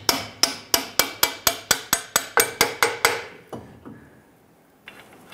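A steel hammer strikes a lower control arm bolt on a 2002-2008 Dodge Ram 1500 in about fourteen sharp, evenly spaced metallic taps, close and loud, then the ringing fades into quiet.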